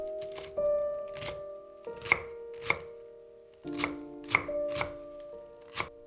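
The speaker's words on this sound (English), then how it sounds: "Mince the spring onion and the cilantro." A knife on a cutting board minces spring onion and cilantro in crisp, close chops that come in quick bursts separated by short pauses, with no voices.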